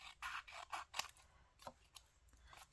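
Scissors trim a paper lace booklet cover, making a quick run of crisp, close snips in an uneven rhythm, with no one talking.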